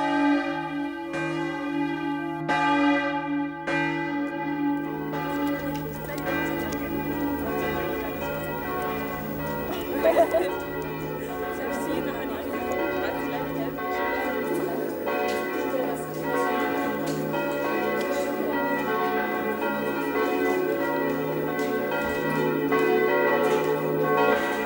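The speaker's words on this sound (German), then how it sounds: "Glocken verkünden unüberhörbar im ganzen Tal." Church bells peal for a village church fair (Kirchtag) in Liesing in the Lesachtal valley, ringing loud and continuous with overlapping strikes for about twenty-five seconds.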